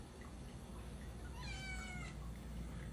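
A single drawn-out cat meow rises and falls, fairly quiet against a faint background hum, with nothing else happening around it.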